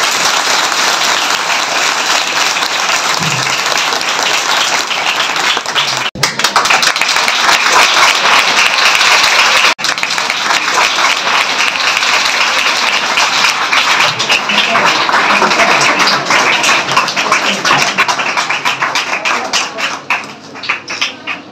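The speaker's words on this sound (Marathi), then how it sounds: "त्यांचं कौतुक आणि जोरदार टाळ्या वाजवा" A school audience at a Savitribai Phule birth anniversary event gives loud, sustained applause, dense clapping filling the hall and fading slightly near the end.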